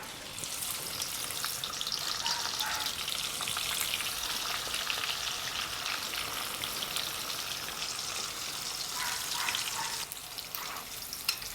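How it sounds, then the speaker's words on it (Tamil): Onions frying in hot oil for a prawn sambal, a steady, even hiss of crackling oil with faint occasional stirs. "முதல்ல நாங்கள் வெங்காயத்தை பொரிச்சு எடுப்போம்"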